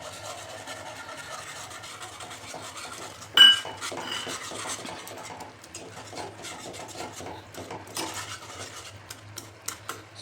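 A spoon scrapes and stirs in a pot as gram flour is worked into it for pithla, with quiet steady rubbing and a sharp metallic clank partway through, close and without talk.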